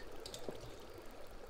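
Water in a Minecraft game flows in both directions from a placed source with a soft, faint trickling and pouring sound. A small splash stands out near the middle of the short stretch.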